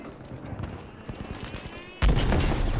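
Gunfire in a first-person shooter video game, with scattered distant shots and rattling bursts followed by a sudden loud, sustained burst of fire, and no talking.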